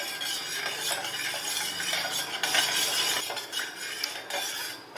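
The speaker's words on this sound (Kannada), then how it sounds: "ಇದನ್ನು ಚೆನ್ನಾಗಿ ಮಿಕ್ಸ್ ಮಾಡ್ಕೊಳ್ಳೋಣ." Spoon stirring sugar into strained coconut water, a close, continuous scraping and light clinking of metal against a bowl or glass, steady throughout with no talk.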